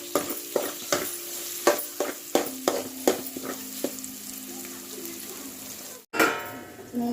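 Ridge gourd and prawn curry cooking in oil in a pan, with a series of close scraping stirs over a soft sizzle, then a brief break followed by a louder burst of frying.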